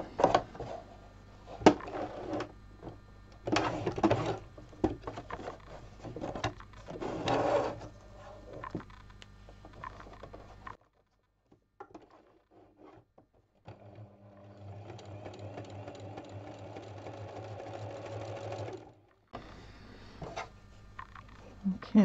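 A sewing machine stitching free-motion embroidery in straight stitch, its rapid mechanical whirr running in bursts with brief pauses, close up, while a person talks between runs.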